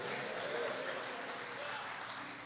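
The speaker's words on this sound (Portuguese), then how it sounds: "Dê um aplauso ao Senhor Jesus e glorifique o nome dEle." Church conference audience applauding, a steady dense wash of clapping throughout that stays loud and even with voices mixed in.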